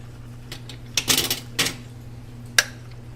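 A metal spoon clinks against a glass bottle of hot homemade gulkand rose jam, a few light scattered taps and scrapes, close and clear with no talk.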